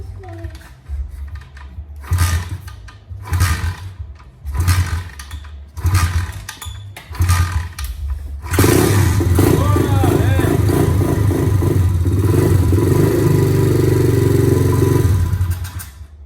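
A motorcycle fitted with a new carburetor, not run for a while, is cranked in several short bursts that sputter and stop. It then catches and runs loudly and steadily, close by, for several seconds.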